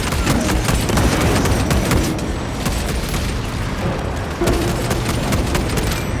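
A frag grenade goes off in a Warhammer 40k video game amid dense, rumbling battle noise, a loud and continuous wash of booms and blasts that stays heavy from start to finish.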